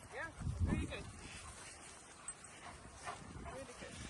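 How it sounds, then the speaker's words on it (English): Intact male protection dogs at a residential training kennel bark and whimper, with a burst of close barking early on and scattered yips after it, while people talk over them. "Now look at the amount of dogs."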